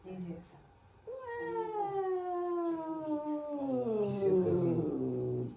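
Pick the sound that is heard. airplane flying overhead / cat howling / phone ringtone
cat howling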